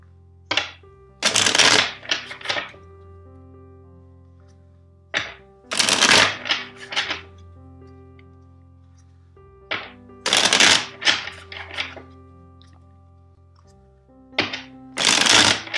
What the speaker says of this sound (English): let's shuffle the deck 4 times for you